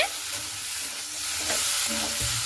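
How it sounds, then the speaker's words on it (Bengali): A spoon scrapes and turns spice masala through fried potatoes in a sizzling pan, with a continuous hiss of frying under a few dull stirring knocks. "ভেজে রাখা আলুগুলোকে দিয়েও কিন্তু খুব সুন্দর করে নাড়াচাড়া করে নেব"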